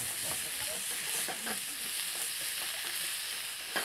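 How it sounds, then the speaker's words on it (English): Pork sizzles and fries in oil in a small wok, a steady close crackling hiss with faint stirring clicks running throughout, no talking. "Oil, put a tiny bit of pork."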